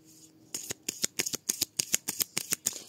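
A tarot deck being cut and shuffled, giving a quick run of about a dozen crisp, papery riffle snaps close up, alone in a quiet room.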